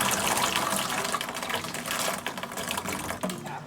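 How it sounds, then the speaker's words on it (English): Acorns being washed in water, a continuous close splashing and rattling rinse with running water, busy and unbroken throughout. "First we want to wash our acorns"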